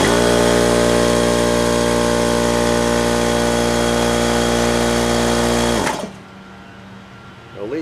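A Porter Cable CPF234000S air compressor runs loud and close with a steady humming motor drone, then shuts off abruptly near the end, leaving a quiet hiss.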